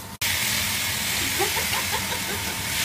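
Kitchen range hood extractor fan running over a stove while eggplant cooks, a loud steady broadband whoosh that starts abruptly and holds, with faint clinks in the background.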